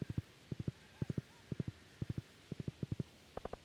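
Horse hooves clip-clopping in the farming video game Stardew Valley, soft triple-beat clusters repeating evenly at a gentle walking pace, faint and clear with no voices over them.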